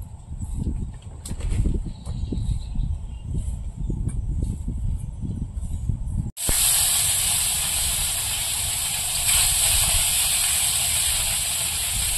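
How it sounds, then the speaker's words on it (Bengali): Fish dropped into hot oil, a soft bubbling murmur that gives way partway through to a loud, steady, bright sizzling hiss that carries on to the end, with no talk. "মাছটা এবার ভেজে নেব।"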